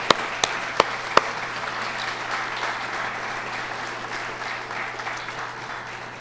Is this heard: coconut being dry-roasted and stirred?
no